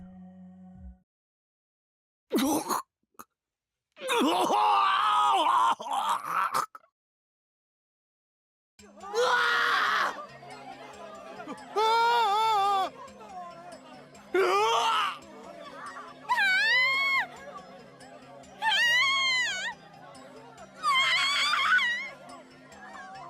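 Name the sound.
students screaming in panic in a school gym, from the visual novel game Chaos;Child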